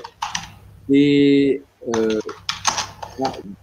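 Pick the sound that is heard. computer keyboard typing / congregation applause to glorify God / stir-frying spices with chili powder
computer keyboard typing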